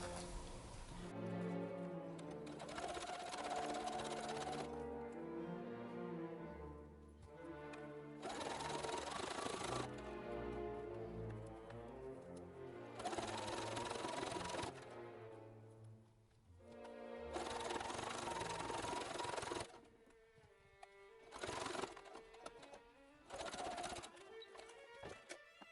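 A sewing machine fitted with a cording foot stitches a baseball jersey in several sustained whirring bursts, each a few seconds long, separated by brief pauses.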